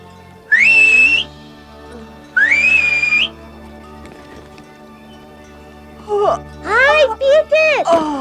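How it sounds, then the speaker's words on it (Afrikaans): A girl in the mountains gives two sharp, shrill finger whistles, each rising and holding. A quick run of bird-like chirping whistles follows. "Sy kan selfs deur haar vingers fluit"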